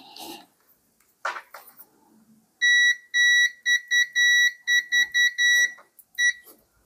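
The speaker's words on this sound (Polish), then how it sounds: "Sprawdźmy, czy pipczak pipczy." An electrical continuity tester, used while repairing a DeLonghi ECAM23.420.SB coffee machine with a heating-element fault, gives a run of loud, sharp electronic beeps in irregular short and longer bursts, after brief rustling and handling noise.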